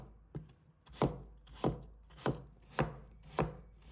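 A knife slices water chestnuts on a cutting board in six crisp, evenly spaced chops, close and fairly loud, with no talking.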